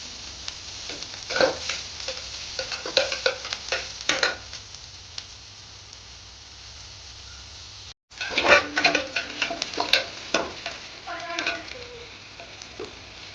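Chopped onion and curry leaves fry in a pan, with bursts of crackling sizzle and stirring scrapes, a brief dropout near the middle, then more spattering frying close by.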